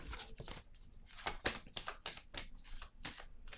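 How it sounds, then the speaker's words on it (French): A tarot card laid down on a table during a reading, heard as a series of close, crisp papery slaps and brushes, several quick card contacts spread across a few seconds, with no talk. "Je vais déposer une autre carte."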